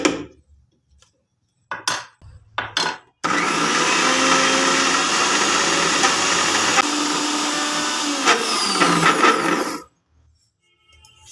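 A mixer grinder jar grinding soaked matar dal: a few clicks and knocks, then a loud, steady motor whir for about six and a half seconds before it stops abruptly into silence.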